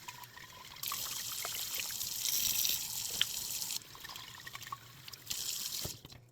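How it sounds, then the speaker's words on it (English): Water trickles and pours through sprouting seeds in a jar as they are rinsed and drained, a close, steady splashing stream that swells in two bursts with a quieter gap between, then cuts off near the end. "and then just give them a quick rinse out"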